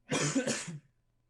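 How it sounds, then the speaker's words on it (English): A single close, loud cough lasting under a second, with a brief throaty tail and then quiet. "you need cough medicine or something, dude?"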